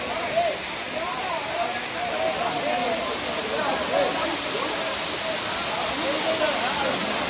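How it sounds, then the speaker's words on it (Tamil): Pepper Falls waterfall in Kodaikanal gives a steady, even rushing roar close by, with faint voices murmuring under the constant wash of falling water. "நம்ம பெப்பர் பால்ஸ் வந்திருக்கோம்."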